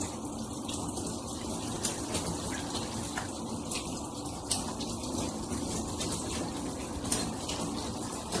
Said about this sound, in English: One shower head.